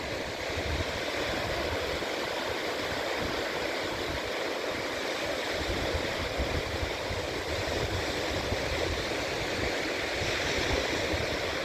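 Sea waves break on Sai Ri beach in Chumphon, Thailand, as a steady, even wash of surf roars on without pause and no voices are heard.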